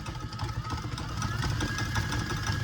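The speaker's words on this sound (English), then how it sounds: "And now we're just going to turn this KitchenAid on" A KitchenAid stand mixer churns goat cream into butter with a steady, moderately loud motor whir and a rumbling drone that holds evenly throughout.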